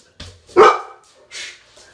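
A dog gives a short bark followed by a second, softer bark, close and fairly loud, with brief low sounds in between.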